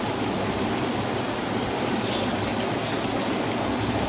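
Ingredients for laal akhni pulao, with potatoes just added, sizzle and roast in a pan, a steady dense crackling hiss that holds evenly throughout.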